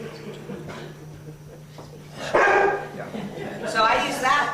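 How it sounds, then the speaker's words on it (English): A trained service dog barks on command, giving a few loud, close barks in the second half after a quieter stretch that has faint voice and background hum. "I have her start barking, and then my family knows to come see what I need."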